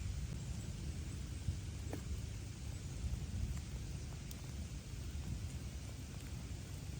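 Steady rain falls outdoors on a golf course, a continuous close wash of noise over a low rumble that holds for the whole stretch.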